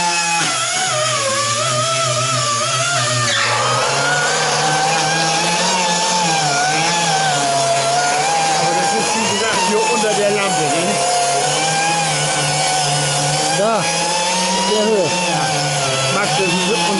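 A power sander grinds steadily against the body of a Fiat Topolino Coupe, a continuous loud whine whose pitch wavers as pressure shifts. People talk over it.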